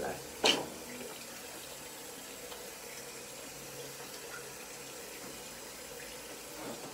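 Water running from a bathroom tap during face washing, a soft steady stream with a brief splash near the start, quiet and close, with no talk over it.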